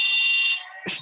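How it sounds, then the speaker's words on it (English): An arena game buzzer, the same one used for every stoppage such as shot clock violations, sounds as one loud, sustained electronic blare that cuts off abruptly, with a short noisy burst at the end. "It was the same buzzer no matter what was happening"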